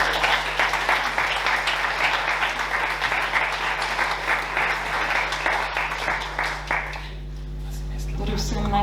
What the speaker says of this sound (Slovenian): Pozdravimo jo z lepim aplavzom.